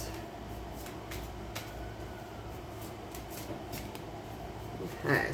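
A Lenormand card deck is shuffled in quick, soft riffling bursts, close and quiet, with a low steady hum underneath.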